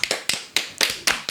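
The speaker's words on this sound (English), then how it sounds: "let's give her a clap" A small group claps for Geraldine to celebrate her seven months off cigarettes, producing a few scattered, sparse bursts of hand claps close by with short gaps between them.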